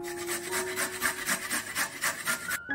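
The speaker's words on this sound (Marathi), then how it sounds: "आता सगळी गाजर जेवढी मी घेतली तेवढी किसून घेते" Carrots grated by hand on a fine grater, a close run of quick rasping strokes repeating in a steady back-and-forth rhythm, with no talking.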